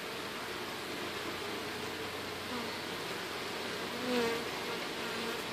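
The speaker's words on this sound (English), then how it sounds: "Got the bees orienting to the hive now." Honeybees from a cut-out removal in Haines City, Florida hum steadily around a top bar hive, a soft continuous drone of many wings with an occasional louder bee passing close.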